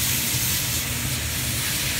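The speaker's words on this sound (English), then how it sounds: "Oh, well, we got some sizzle going" Bacon sizzles on a REC TEC pellet grill, a loud, steady, close hiss and crackle that fills the brief moment with no talk over it.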